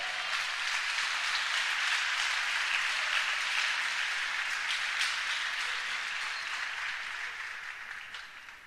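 A church congregation applauds together, a dense, steady wash of many hands clapping that fills the room and slowly fades toward the end, with no voices over it.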